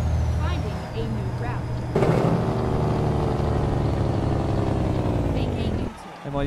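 A modded truck engine sound pack in American Truck Simulator drones steadily and loudly throughout, a deep continuous rumble with a brief dip near the end, while a person talks over it.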